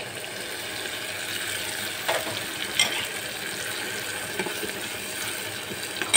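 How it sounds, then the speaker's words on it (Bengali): Spice paste frying in a pan with hilsa fish and taro root, a soft steady sizzle with a few faint scrapes and clinks, close by and without talking. "এখন আমি এটার মধ্যে এই মশলা পেস্টটা দিয়ে দেব।"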